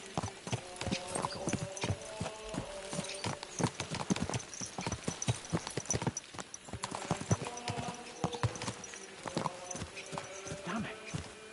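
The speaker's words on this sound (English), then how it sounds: "Let's really spur these horses on, eh?" Horses galloping in Kingdom Come Deliverance 2, a steady, quick clip-clop of hooves with occasional snorts, fairly close, with a voice talking over the hoofbeats.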